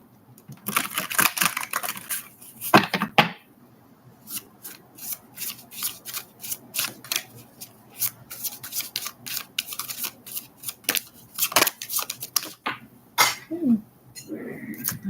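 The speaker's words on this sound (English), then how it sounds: "All right, one more shuffle, please." Tarot cards being shuffled by hand, a quick run of crisp riffling flicks and soft rubbing close to the microphone, with a brief faint voice near the end.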